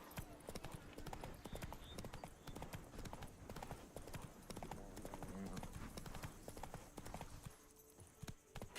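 Roach the horse galloping in The Witcher 3, rapid rhythmic hoofbeats clattering steadily and close throughout, with no voices over them.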